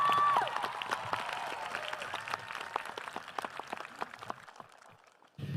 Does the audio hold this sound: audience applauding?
yes